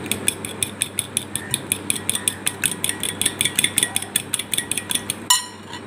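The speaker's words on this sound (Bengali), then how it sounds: "ভালোভাবে ফিটিয়ে নিচ্ছি দুটো ডিম।" Two eggs beaten briskly in a bowl, a fast steady run of sharp clinking taps from the utensil against the bowl rim, close and loud, ending in a brief clatter.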